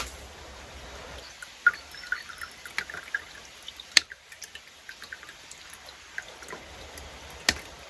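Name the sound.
white vinegar being poured over an Opinel knife blade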